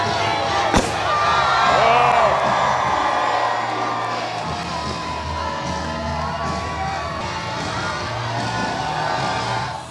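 Large outdoor crowd at a Super Bowl championship parade cheering, whooping and yelling continuously, loud and dense, with a sharp bang near the start and voices shouting throughout.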